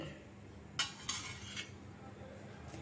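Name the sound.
spoon mixing curd vegetable salad in a vessel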